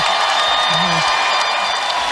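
A crowd roars at a basketball game with a dense, sustained wash of cheering and applause, loud and unbroken. A brief voice rises through it before the sound cuts off abruptly.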